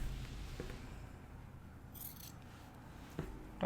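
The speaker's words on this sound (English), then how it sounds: "you want to take your scissors and trim your bottom edges." Scissors trimming the fabric corners of a sewing-project drawstring bag, a few quiet snips and soft scraping cuts, close but faint.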